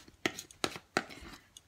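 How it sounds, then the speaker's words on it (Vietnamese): A knife chops small kaffir lime leaves on a cutting board in a home kitchen: three sharp, close knife strikes spaced evenly, with a couple of softer taps and light handling noise between them. "Giờ mình sẽ cắt mấy miếng lá chanh này vô cho nấu cho nó thơm."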